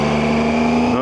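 A car driving in first gear down a steep road, its engine a steady, close, sustained hum at constant pitch with no gear changes, carrying right through.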